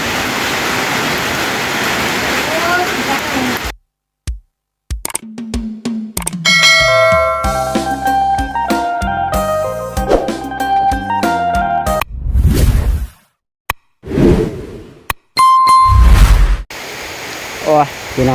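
Evening rain falls around a rural home in a steady broadband hiss, with a voice talking over it. The rain gives way to chiming bell-like music and scattered louder bursts.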